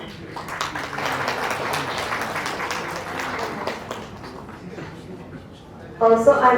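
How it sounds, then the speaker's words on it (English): A round of applause at a state commission's foundation day ceremony: even, moderately loud clapping from a seated hall crowd runs throughout, then a louder burst of sound near the end. "Let us all welcome her with a big round of applause."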